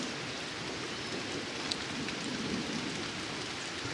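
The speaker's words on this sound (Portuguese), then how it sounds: "Como vocês podem ver, tá chovendo muito." Heavy rain pours steadily over an outdoor spot in Vale Indiana during a gold-detecting outing, a dense, even hiss with scattered drop impacts and no voices.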